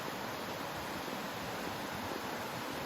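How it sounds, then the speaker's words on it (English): Rushing water of a mountain stream along the Appalachian Trail near Monson, Maine, a steady broadband roar that holds constant and close throughout, with no voices. "but the sound of rushing water"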